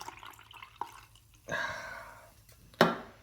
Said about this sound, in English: So I'm going to pour this in here